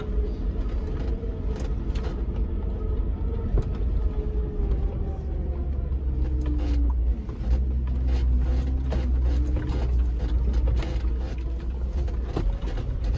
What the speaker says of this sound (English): I'm very happy to drive a narrow truck,